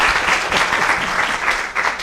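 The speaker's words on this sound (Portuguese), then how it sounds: "Eu peço uma salva de palmas para a nossa convidada" Audience applause for a guest speaker at a school talk on problem solving, a dense steady burst of many hands clapping that fills the room for about two seconds.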